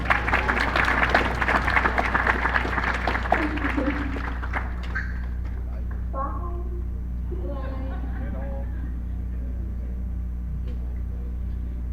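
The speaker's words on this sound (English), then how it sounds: "Let's give her a round of applause." Applause from an audience at a college soccer showcase info session, dense clapping in the first few seconds that fades out, followed by talking over a steady low hum.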